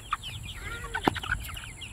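Young pullets and chickens cluck and chirp in short scattered calls on a farm, close by, with a faint background hum.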